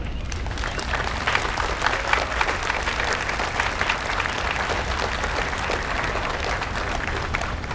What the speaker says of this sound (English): let's give the Ames Electric Utility a round of applause